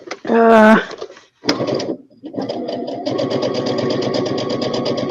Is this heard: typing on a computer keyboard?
no